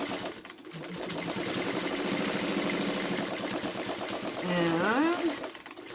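Sewing machine stitching across quilted fabric for a Christmas table topper, a fast steady mechanical chatter close by, with a short pause near the start and a brief squeaky flourish near the end.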